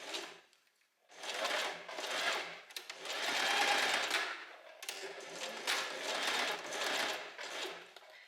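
A sewing machine stitches through layers of fabric and elastic on a little black dress with thin straps, running in several close bursts with brief pauses between them, loud and nearby.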